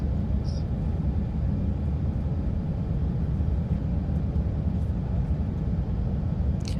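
Steady broadband engine roar of an airliner from the XP Realistic add-on for the X-Plane flight simulator, loud and constant throughout with no talk over it.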